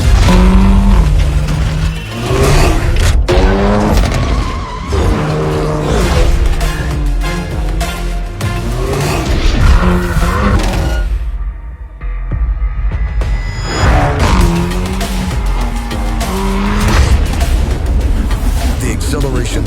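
A Hyundai Elantra N engine throbs and roars as the car accelerates, loud and continuous with pulsing revs and gear shifts, under music or voiceover.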